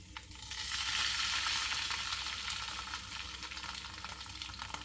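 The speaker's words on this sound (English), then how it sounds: "If you can hear the sizzle, it's hot enough" Salmon frying skin side down in a hot pan with oil, a loud, dense, steady sizzle close up that swells early and then holds, with faint crackles and no talking.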